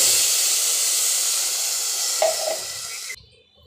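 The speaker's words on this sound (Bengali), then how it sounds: "এখন পরিমাণ মতো পানি অ্যাড করে নিচ্ছি" Water poured into a hot pan of fried rice for chicken biryani, a loud continuous steaming hiss and sizzle that holds steady, then cuts off abruptly near the end.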